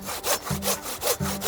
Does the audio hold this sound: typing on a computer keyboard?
no